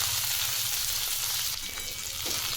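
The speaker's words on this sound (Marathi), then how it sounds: "तेल गरम झालं आहे, त्यामध्ये आपण टाकू जिरे मोहरी, ठेचलेलं लसूण आणि आपली भाजी" Cumin, mustard seeds, crushed garlic and vegetables sizzle in hot oil, a loud continuous close-up hiss with light crackling and a faint stirring scrape, no speech.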